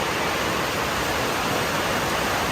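Rain pours onto a neighbouring house's terrace, a steady even hiss of falling water at moderate level with no breaks or voices.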